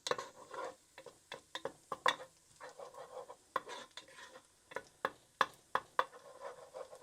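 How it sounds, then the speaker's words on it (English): Garlic sears in a pan for tomato soup while a utensil stirs it, giving rapid irregular scrapes and clicks over a soft sizzle, close by and moderately quiet, with no talking. "just going to sear that garlic maybe 30-40 seconds. Keep it moving."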